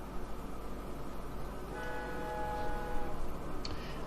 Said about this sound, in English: so I'm not drowned out by the noise of these two trains